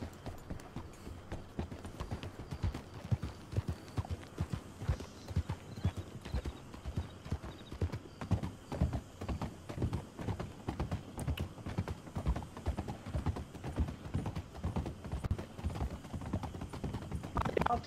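Horse hooves clip-clop steadily in Red Dead Redemption 2, a continuous close rhythmic trot running under talking voices throughout.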